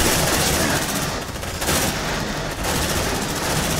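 Sustained automatic gunfire from marines' pulse rifles in the sci-fi video game Aliens: Dark Descent, a loud, dense continuous burst of rapid shots with brief dips, with no talk over it.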